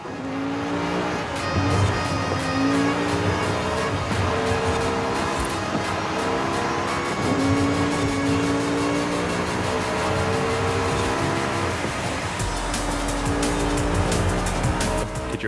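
Racing cars in Forza Horizon 5, including a McLaren, roar close by with revving, shifting engine notes and repeated tire squeals, loud and continuous from start to finish, with no speech.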